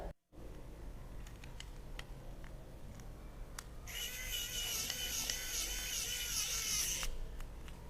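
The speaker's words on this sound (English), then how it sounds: "What better way to assemble it than by using the electric screwdriver?" A small electric screwdriver whirs in a steady high-pitched burst for about three seconds while driving little screws to assemble a workshop tool, with faint handling clicks before it.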